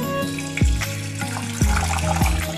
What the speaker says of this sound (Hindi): अब इसके अंदर हम पानी ऐड करेंगे।